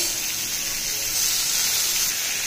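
Pangas fish and a spice paste frying in a pan, giving a dense, steady, fairly loud hiss and sizzle with no break.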